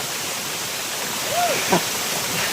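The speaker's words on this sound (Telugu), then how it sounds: "వాటర్ ఫాల్ బాత్ కూడా అయిపోయింది." Kalu waterfall near Pune in Maharashtra roars as a steady, dense rush of falling water, with a brief faint voice rising above it partway through.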